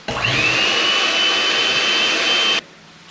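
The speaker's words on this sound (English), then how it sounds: "Now we're going to use an electric hand whisk to whisk these 4 egg whites to stiff peaks." An electric hand whisk beating four egg whites whirs loud and close in one sustained high-pitched run, then cuts off abruptly.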